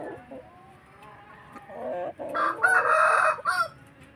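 Chickens and a rooster on a farm, with soft clucking at first, then a loud, close rooster crow rising in the second half, with no talk.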